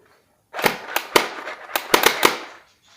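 A toy shooting-gallery gun fires on automatic, a burst of about seven sharp cracking shots in quick irregular succession, loud and close, with silence before and after.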